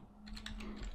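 Keys on a computer keyboard clatter in a short, quick burst of several soft taps, close but quiet beneath a faint steady hum.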